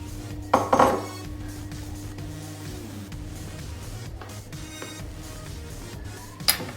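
Flour, bicarbonate of soda and salt going into a mixing bowl in a kids' kitchen, a sharp clink of a spoon against the bowl, soft pouring and shuffling, and another clink at the end.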